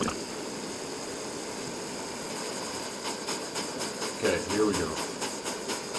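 An inverted canister stove sputters as it burns in winter camping conditions, a steady hiss with irregular crackling pulses building in the second half, and a person speaks briefly over it.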